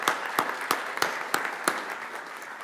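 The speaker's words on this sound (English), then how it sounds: "Let's give him a round of applause." Applause for an honoree at an MLK celebration comes as a handful of sharp, evenly spaced claps over a soft bed of scattered clapping from a modest audience, gradually tapering.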